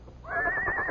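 A horse's whinny used as a sound effect in an old Western radio drama, rising into a loud, sustained, quavering neigh that fills the second without any talking.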